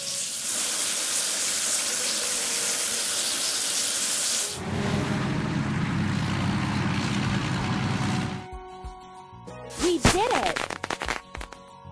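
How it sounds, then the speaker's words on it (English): Water rushes and hisses strongly while something on a house build site is washed clean, then the flow changes character before stopping, followed by a few bumps and clanks. "Now we need to wash it clean."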